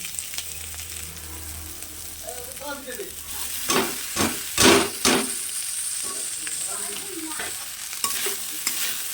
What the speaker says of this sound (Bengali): আমার সবজিটা ভাজা হয়ে গেছে এবার আমি দিয়ে দেবো চিড়ে